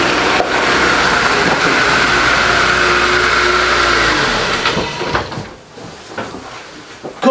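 A 2004 Honda CR-V engine runs loud and close, a steady drone that holds for several seconds then drops away into quieter knocks and rustles.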